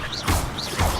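Two quick casts of Levioso and Accio in the video game Hogwarts Legacy land as a pair of short whooshing, clattering hits about half a second apart.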